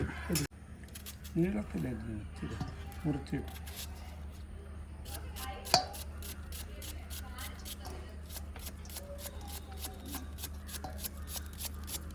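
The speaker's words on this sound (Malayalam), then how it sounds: "2 സബോള കൂടെ അരിഞ്ഞ് ചേർക്കാം" A knife chops onions on a board in quick, even taps that grow into a steady rapid rhythm, close and fairly quiet, after a few faint spoken words at the start.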